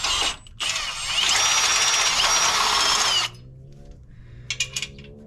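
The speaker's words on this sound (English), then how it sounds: "So we'll just drill it out until it's..." A power drill whines loudly for about three seconds while drilling out a hole in metal, stopping and restarting once, then cuts off, leaving faint clicks and quiet handling noises.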